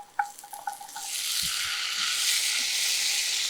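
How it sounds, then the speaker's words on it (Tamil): Potato pieces and onions frying in a pan over low flame, a steady broad sizzle rising after a few light clinks of stirring at the start, close and continuous. "அப்படியே லோ ஃப்ளேமில் நல்லா வதக்கி எடுத்துக்கலாம்"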